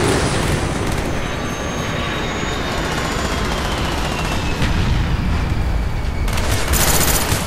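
Dense, continuous gunfire and battle noise in a shooter video game, loud and close with no pauses, layered over a constant roar of vehicles or aircraft.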